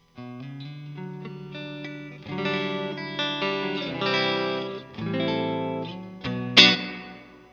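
An electric guitar played through a Fender '65 reverb pedal rings out alone in a series of strummed chords and sustained notes. Each one trails off in a short, snappy reverb tail, and a sharp, bright hit lands near the end.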